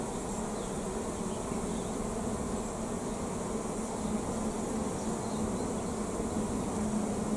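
Honeybees buzz over a sparsely covered hive frame with a dense, continuous drone, steady and close, with no voices.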